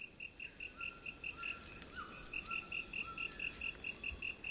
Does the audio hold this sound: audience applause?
no